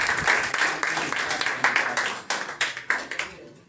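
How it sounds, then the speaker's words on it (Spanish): Church audience applause, a dense burst of hand clapping that stays loud and then breaks into uneven, separate claps as it winds down. "lo recibimos con un fuerte aplauso"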